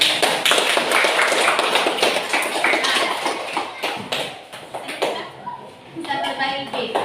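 A classroom group gives a round of applause for group 3, with dense, steady clapping that thins and trails off toward the end, and voices mixed in.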